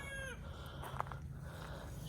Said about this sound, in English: the roosters are just making so much racket